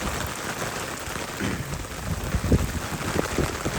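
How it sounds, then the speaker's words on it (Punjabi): Heavy rain pours down in a steady, dense hiss, with a few louder spatters and low thumps near the end. "ਮੀਂਹ ਬੜਾ ਜ਼ਿਆਦਾ"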